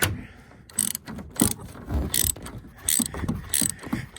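Ratchet clicking in short bursts while tightening bolts on a 2019 Ram 3500 headlight, close and fairly loud, with quiet pauses between pulls.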